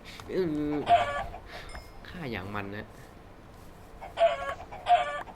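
Minecraft chickens cluck in a survival hardcore game, several short nasal calls in quick pairs near the start and end, loud and close, with someone talking in between.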